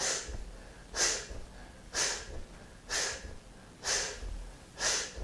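Forceful rhythmic yoga breathing imitating a piston, done with the legs raised: six sharp, evenly spaced exhalations about a second apart, close and fairly quiet, with no talking.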